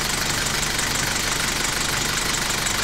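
A car engine idles steadily during a battery analyser's loaded charging test, a continuous even hum with a faint rapid pulsing and no voices over it.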